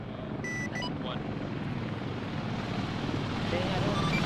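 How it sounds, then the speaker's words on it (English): Chinook helicopter approaching in the CombatSim video game, a steady, dense rotor and engine roar with wind-like rush that holds throughout, while voices are faintly heard under it. "Okay, visual on Chinook coming in from the west."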